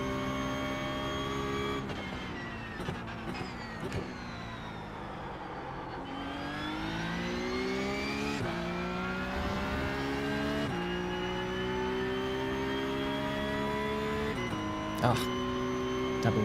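Porsche Cup race car in iRacing, engine droning loud and close with rising revs and a couple of abrupt pitch drops from quick upshifts, accompanied by someone talking.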